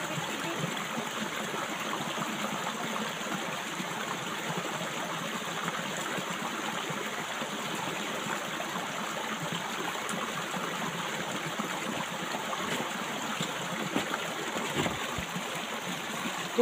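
A stream runs past without a break, a broad and even rush of water that holds steady for the whole stretch. The sound is close and fairly quiet, with no voices over it.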